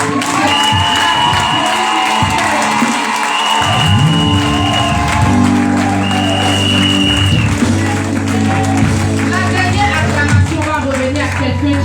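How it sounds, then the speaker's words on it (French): Congregation at a night worship service in a Cocody temple bursts into sustained cheering, clapping and shouting, a dense loud crowd roar with music and voices running through it. "J'aimerais qu'on acclame le Seigneur."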